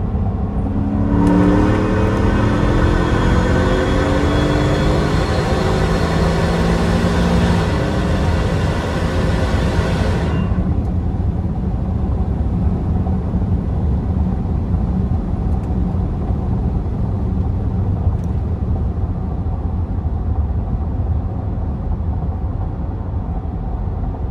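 A Ford F-150 Shelby Super Snake Sport truck accelerates at wide-open throttle, its engine note climbing in pitch for several seconds before easing off into a steady, loud cabin drone with road rumble.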